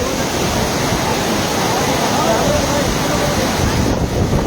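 Fast-flowing water rushes down a mountainside, a loud, dense and continuous broadband roar that stays steady throughout with no pauses.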